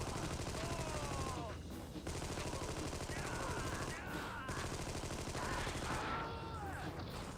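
Machine gun fire in the Xbox shooter Armed and Dangerous, with continuous dense rapid gunfire running almost unbroken throughout, mixed with game effects and brief dips.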